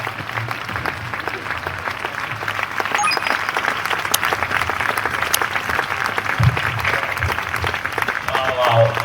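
An audience at a Republic Day gathering claps continuously, a dense rattle of many hands that swells midway and keeps going, with people talking over it.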